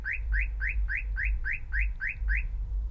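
An electronic Sherkan Logicar car alarm with remote start chirps in a steady rapid series of about nine identical rising beeps over a low engine-like hum.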